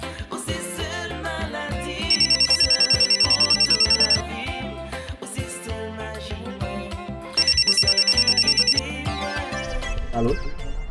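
A telephone rings in two long electronic trilling bursts, each lasting about two seconds, over background music in a French drama scene.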